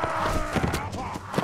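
Galloping horse hooves in the medieval combat video game Mount & Blade: Warband, a quick run of clip-clop beats under the clamour of battle with someone talking over it.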